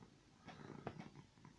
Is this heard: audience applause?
no